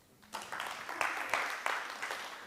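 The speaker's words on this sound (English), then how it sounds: "Uncomfortable with the inevitable applause." Audience applause breaking out at the close of an evening talk, a dense wash of clapping that swells and keeps going steadily, with a few sharper bursts riding on top.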